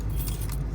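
A big bunch of camper and RV keys jangles up close, a steady, continuous metallic rattle that fills the whole moment with no voices.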